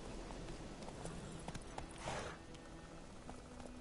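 Geralt's horse Roach in The Witcher 3, hooves clip-clopping in a steady trotting rhythm at low volume, with a brief whooshing swell midway.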